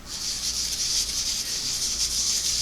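900-grit sandpaper or emery cloth rubs back and forth over a metal carbon disc from a Singer clam-shell foot pedal, a close, steady rhythmic hiss of repeated strokes.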